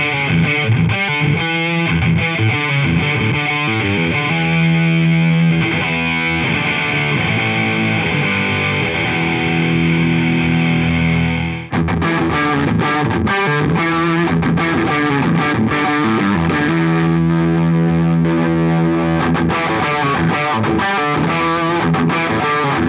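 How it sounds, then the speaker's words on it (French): A Hagstrom Ultra Swede ESN electric guitar plays distorted lead lines through an amp, with sustained, buzzing notes and bends, running continuously with a short break midway, loud and up close. "on écoute sur les trois amplis en son lead"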